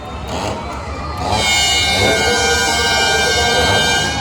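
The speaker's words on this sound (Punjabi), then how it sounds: "ਟ੍ਰੇਨ ਆ ਕਿ ਬੜਾ ਹੀ ਤਗੜਾ ਹਾਰਨ ਸੱਚੀ" A loud, sustained horn from a train ride at the Chhapar fair in Punjab, 2024, blares over a noisy crowd, droning steadily after a brief rumbling start.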